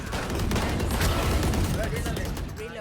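Rapid gunfire in a tactical shooter video game, a sustained burst of overlapping shots and impacts packed close together, loud and continuous for nearly three seconds with no speech.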